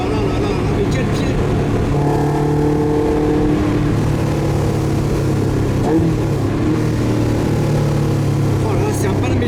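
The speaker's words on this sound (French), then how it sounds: "Bon les enfants, je conduis une KTM." A KTM sports car's engine drones loudly and steadily at close range while driving, with shifting tones as the revs change and someone speaking over it.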